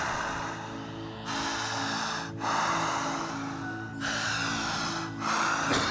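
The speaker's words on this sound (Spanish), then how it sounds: "Jalo aire por boca, saco aire por boca. Meto aire por boca," Forceful breathing in and out through the mouth, with loud, rhythmic rushes of air in long strokes and a steady low background hum, alone without talk.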